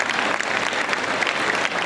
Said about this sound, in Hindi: आपकी तालियों के बीच होगा तो मुझे अच्छा लगेगा।